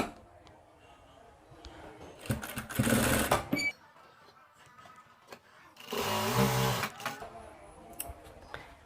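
Sewing machine stitching a sleeve piece for a dress in two short, loud runs separated by quieter handling of the fabric.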